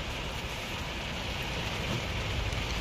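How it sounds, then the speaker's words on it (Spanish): Heavy rain pours steadily on surfaces, a dense, loud, unbroken hiss with no pauses, at a house in La Guajira. "Lo que llueve."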